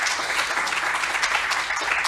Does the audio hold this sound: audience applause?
yes